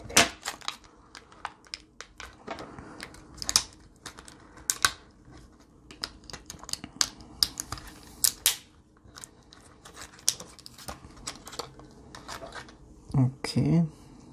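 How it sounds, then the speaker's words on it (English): Scissors prying the battery out of a Honda Civic keyless remote fob, a string of sharp close plastic clicks, snaps and scrapes with small taps scattered throughout, while a voice talks now and then. "Now let's use the scissors to get my battery."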